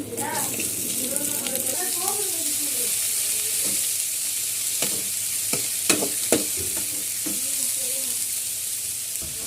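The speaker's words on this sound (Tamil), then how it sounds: "வெங்காயம் சேர்த்து நல்லா வதக்கிடுங்க" Onions, garlic and curry leaves sauté in a hot pan for a pumpkin stir-fry, giving a steady soft sizzle with occasional scraping stirs and clinks of a spoon, while someone talks over it at the start.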